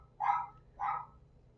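A dog barks twice from the next room, muffled and somewhat distant, with a short pause between the two barks against a quiet background.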